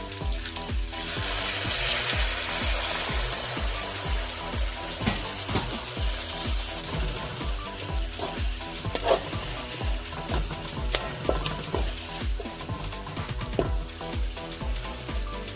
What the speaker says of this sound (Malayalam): ലേശം വെള്ളം ചേർത്ത് ഒന്ന് മിക്സ് ചെയ്യണം